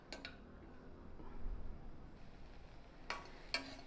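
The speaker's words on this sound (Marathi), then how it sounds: "जरासं भाजून घेऊया।" Kadvanchi, a small bitter-gourd-like wild vegetable, roasts quietly in a pan, with a faint low sizzle and a few sharp clinks of a utensil against metal near the start and end.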